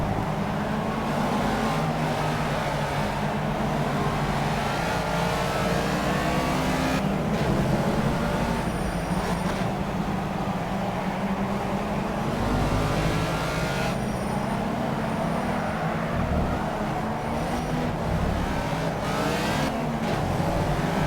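A Formula Rookie race car in the Project CARS racing game, its engine droning loudly and steadily and shifting pitch through gear changes and a downshift for a hairpin, heard alone without talk.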